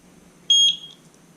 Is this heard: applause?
no